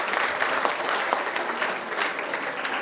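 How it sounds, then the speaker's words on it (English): A crowd of over a hundred people applauds after a student talk session, producing a dense, steady roar of clapping that holds at an even level throughout, with no clear voices. "a huge round of applause for all three of them"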